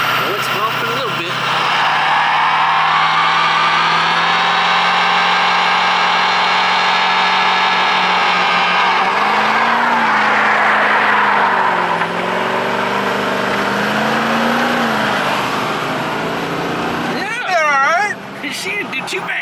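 A Ford 6.0 Powerstroke diesel truck revs hard while roasting its tires, a loud sustained engine roar rising and falling over nearly twenty seconds before a sharp squeal near the end.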